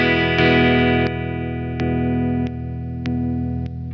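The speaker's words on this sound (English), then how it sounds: "I can just use the Spark booster pedal right here. So you can hear if it's turned on, it'll make quite a difference." Electric guitar played through a Spark booster pedal switched on, strummed chords ringing loud and sustained with sharp pick attacks about every 0.6 seconds, a boosted, slightly driven tone with no talking.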